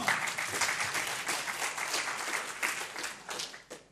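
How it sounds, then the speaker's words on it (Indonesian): Audience applause for a man at a motivational seminar, a room of clapping hands rising and holding steady before tapering off near the end, fairly soft and distant. "Tepuk tangan dulu dong untuk Pak Ayong."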